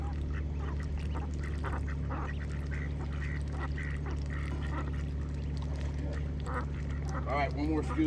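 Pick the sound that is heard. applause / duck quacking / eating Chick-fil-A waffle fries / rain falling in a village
duck quacking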